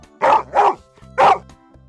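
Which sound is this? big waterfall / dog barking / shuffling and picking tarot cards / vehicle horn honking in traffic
dog barking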